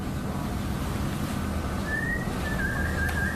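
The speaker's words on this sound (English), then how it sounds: "We put the egg on the bench and we whistle to the egg" A person whistles to a hatching egg resting on a bench, with a thin, rising then steady whistle tone emerging late over a constant low background hum.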